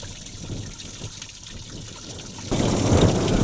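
Water trickles at Kinder Downfall in the Peak District, a faint, thin flow low in the mix that gives way to a louder rush of wind-blown noise in the final second.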